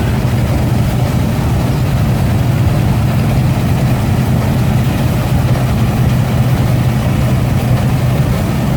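Old diesel engines idling at an outdoor tractor show, a loud steady low rumble with constant throbbing and no pauses.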